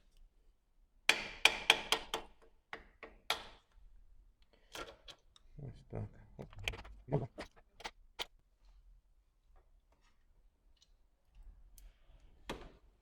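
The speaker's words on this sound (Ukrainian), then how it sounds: "я беру таку маленьку викрутку, вставляю в паз і легенько молоточком" A series of sharp metallic taps from a small hammer striking a screwdriver on a Suzuki Swift 1.5 valve shim, a quick cluster then a few spaced strikes, ring out close by between quiet pauses, with a voice murmuring partway through.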